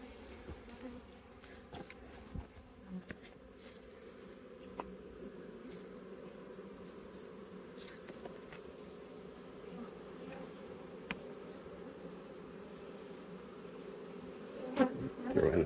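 Honey bees buzz in a continuous, fairly soft drone around a queen cage at a hive, with a few brief louder flickers of wings passing close.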